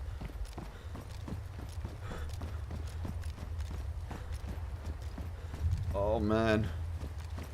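Horse hooves clip-clopping at a steady walking pace, pulling a carriage in the DayZ survival video game, with a brief neigh near the end; someone talks briefly over it.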